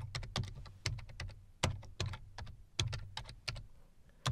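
Keys clatter on a computer keyboard as a command is typed into a PowerShell prompt, in quick bursts of close, fairly loud clicks with short pauses between words, and no voice over them.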